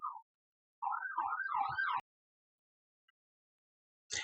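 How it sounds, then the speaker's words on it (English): An emergency vehicle siren wails nearby in short rising and falling bursts for about a second as it passes, then silence, with a brief faint burst returning at the end. "I live where there's a lot of sirens"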